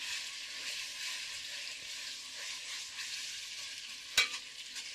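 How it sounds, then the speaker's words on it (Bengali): Spices stirred in a hot pan while cooking roast duck meat, a soft continuous sizzle with gentle scraping, fairly quiet, and one sharp clack of the spoon near the end. "মশলাগুলোকে ভালো মতো মিশিয়ে নেব"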